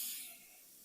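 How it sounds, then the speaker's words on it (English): A quick airbrush burst of thinned paint onto a model railway cooling tower, a soft close hiss that fades slightly after the first instant and then holds steady and quiet. "I've put it in the airbrush and we're just going to give it a quick spray."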